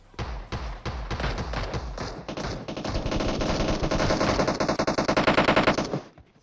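Rapid automatic gunfire in the mobile battle royale game PUBG Mobile, with dense sustained bursts of shots, close and loud, building to a fast volley before cutting off.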